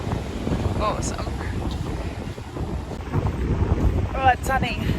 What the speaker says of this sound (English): It's kind of windy down here